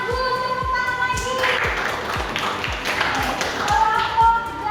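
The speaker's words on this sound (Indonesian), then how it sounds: "Bagus, tepuk tangan lagi." Students in a classroom clap their hands together in a steady rhythmic pattern of repeated taps, fairly close, while a teacher's voice talks over it.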